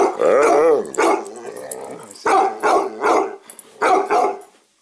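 A dog barks and growls in several bursts close to the microphone, with short pauses between the throaty, vocal-sounding barks.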